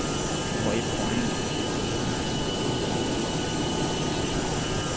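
A British Airways A320neo's jet engines drone steadily in a flight simulator during cruise, a constant loud broadband roar with no break.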